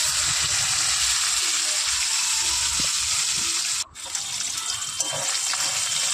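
Katla fish pieces frying in hot oil, a loud, continuous rushing sizzle heard close up, with a brief dip and a couple of sharp clinks partway through.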